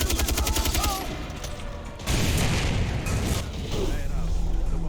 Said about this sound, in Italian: Siamo già morti da un'esplosione completamente a caso